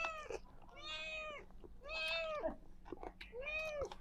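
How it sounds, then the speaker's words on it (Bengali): A cat meows clearly, about four drawn-out calls in a row, close by and alone in a quiet room. "বিড়াল মনে করতেছে কি আমরা জানি কিন খাইতেছি"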